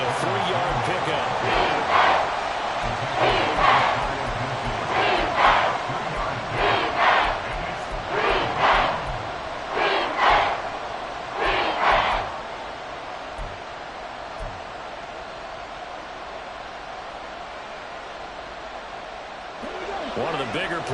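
A football stadium crowd cheers and roars in repeated surging waves through a game as a big third down approaches, loud and continuous for much of the stretch before easing into a steadier hum.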